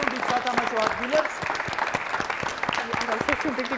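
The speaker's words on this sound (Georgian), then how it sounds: "მხურვალე აპლოდისმენტები" An audience at a school quiz show breaks into warm applause, a dense, continuous patter of clapping filling the room, while a voice talks over it.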